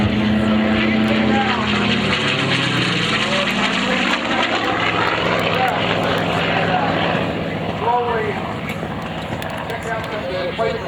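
A WWII Corsair fighter plane flies in a Pacific battle dogfight reenactment, its propeller engine a loud, sustained drone that rises and eases slightly while an announcer talks over it.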